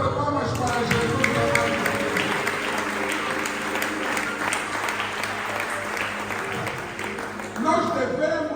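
A church congregation breaks into sustained, full applause for Jesus, dense clapping filling the room for several seconds before tapering off near the end.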